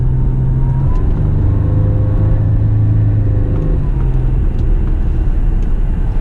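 A supercharged 1998 Buick Park Avenue Ultra drives along under power, its engine droning steadily with a heavy low rumble and shifting tones, loud and continuous, heard from inside the car with no talking.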